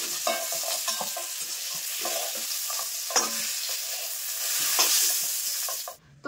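Eggplant pieces fry in hot oil with turmeric in a pan, giving a steady close sizzle with occasional stirring scrapes and crackles throughout.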